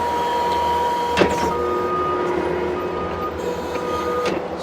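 Skid steer running steadily while grading a yard near a retaining wall, a continuous mechanical drone with a few sharp clanks partway through and near the end.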